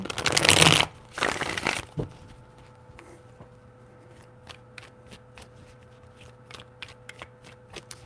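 Tarot cards riffle-shuffled by hand in two loud bursts at the start, followed by soft repeated ticks and light card handling at close range, with no talking.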